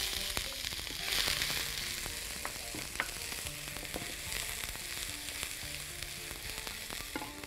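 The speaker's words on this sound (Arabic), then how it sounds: "نحط دلوقتي البصل هنعصج اللحمه عادي خالص" Onion and minced meat fry in a spoonful of butter and a spoonful of oil for a light moussaka with béchamel, giving a continuous crackling sizzle with occasional stirring scrapes, fairly quiet and steady.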